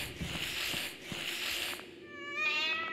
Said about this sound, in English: Don't hurt the cat, please.